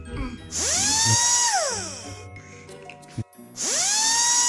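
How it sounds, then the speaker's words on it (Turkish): A power drill whirs up to speed, holds a steady whine, then winds down before spinning up again for a second burst. "Matkapla birazcık açalım mı?"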